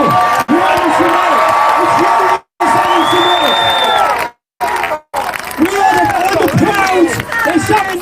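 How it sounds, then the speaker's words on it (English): A large crowd at a political rally in Salford shouts a chant together, loud, dense and sustained, with a few abrupt cuts to silence. "They're shouting never again."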